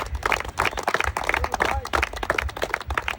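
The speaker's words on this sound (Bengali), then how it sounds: "সবাই একটা ভাইয়ের জন্য তালি হবে" Spectators clap at an outdoor ball-throwing game for a contestant who won a consolation prize. The clapping is a busy, uneven patter with voices talking over it.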